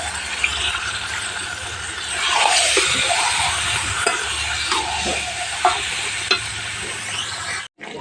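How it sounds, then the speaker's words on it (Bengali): Large batch of lemon-marinated duck meat sautéing in a pan for a Bangladeshi curry: a steady close sizzle with occasional spoon scrapes and soft clacks as the pieces are turned, no voices. "দেখেন মাংসটা কষাচ্ছি বেশ সময় লাগবে যেহেতু অনেক মাংস"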